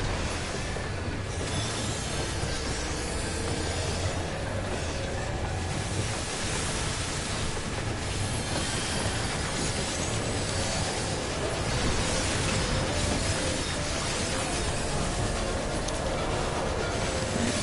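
A train keeps rolling in an FFXIV dungeon, a steady, dense broadband rumble with rail-like clatter running unbroken and fairly loud throughout, with no voices over it.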